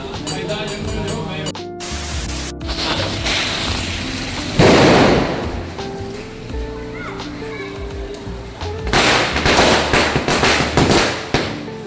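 Diwali firecrackers bursting outdoors during a Lakshmi Puja celebration, with sharp cracks, a loud blast near the middle and rapid crackling volleys toward the end, while people talk in the background.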